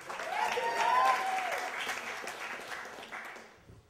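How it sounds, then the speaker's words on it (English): Audience applause and clapping at a live storytelling show, a sustained burst of hands swelling near the start and gradually fading out, with some voices mixed into the crowd noise. "Big hand for Tejan, sound man."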